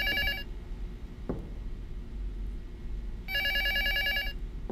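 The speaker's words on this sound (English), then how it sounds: "That doesn't sound like that phone's ringtone." Telephone ringing late at night inside a video game: two electronic ring bursts, one at the start and one near the end, separated by a short thud, fairly quiet with no talking.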